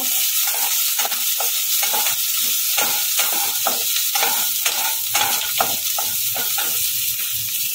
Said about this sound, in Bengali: এবার দিয়ে দেবো পেঁয়াজ কুচোটা। এটাও একটু দুবার নেড়ে নেব।